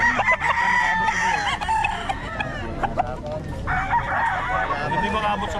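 A rooster crows loudly and close by among repeated clucking, with people talking around it at what seems a gamecock gathering.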